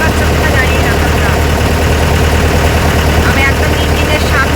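A boat's engine on the way to Neermahal runs loud and steady right up close, a constant low throbbing drone with a voice faintly talking beneath it.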